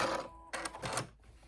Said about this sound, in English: use a zigzag stitch on my sewing machine and run right over that seam allowance with a zigzag stitch